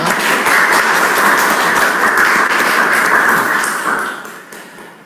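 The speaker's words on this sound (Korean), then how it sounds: "하늘 부모님께 감사와 영광의 박수를 올려드리도록 하겠습니다" A Korean church congregation at a Sunday worship service applauds together, a dense sustained clapping close by that holds steady for several seconds and then tapers away to quiet.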